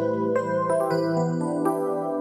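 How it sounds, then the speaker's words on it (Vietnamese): Soft airy keyboard tones play a few sustained notes in a gentle melodic phrase, clean and alone without voices. "Đầu tiên đó là tiếng air piano."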